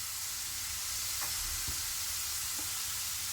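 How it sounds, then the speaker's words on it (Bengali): Sweet corn kernels deep fry in hot oil with a steady, dense sizzle and bubbling, broken by a few soft stirring scrapes and clinks close by. "দেখতে পাচ্ছ যথেষ্ট ডিপ ফ্রাই হয়ে গেছে।"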